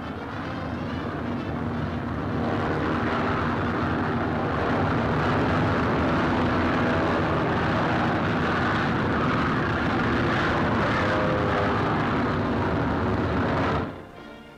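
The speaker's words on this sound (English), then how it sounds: "As the transports take off, General Brereton wishes them Godspeed." WWII transport aircraft taking off during the Allied invasion of France, a loud, steady engine roar that holds at full volume throughout, then cuts off sharply near the end.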